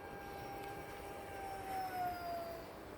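Sky Angel Rare Bear RC plane electric motor at full throttle in flight: a thin, faint, high whine that rises in pitch and swells briefly, heard from a distance over soft background hiss.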